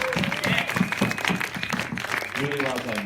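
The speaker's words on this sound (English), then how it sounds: "Let's have a round of applause." Wedding guests at the Megisti Hotel, Kastellorizo break into steady applause, loud and close, with voices and cheering mixed through the clapping.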